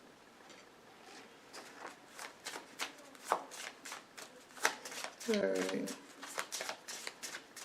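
Oracle cards being shuffled for a tarot-style reading, a steady run of quick papery riffles and flicks close by, with brief speech over the shuffling.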